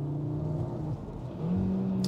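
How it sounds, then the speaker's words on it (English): Cupra Formentor VZ5 SUV with a five-cylinder engine and S Plus transmission mode revving, a steady droning engine note that drops briefly then climbs to a louder, higher sustained pitch, heard from inside the cabin. "In the S Plus for the transmission, it revs so high,"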